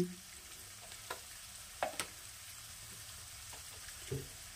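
Asafoetida is stirred into hot oil in a pan for a Bengali winter vegetable curry, giving a faint steady sizzle with a few soft scrapes of the spoon spread through the stretch.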